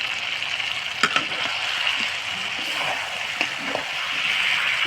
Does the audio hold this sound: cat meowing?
no